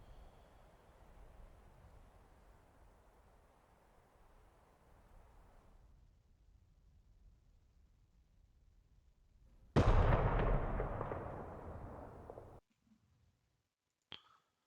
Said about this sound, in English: Sometimes artillery is not accurate.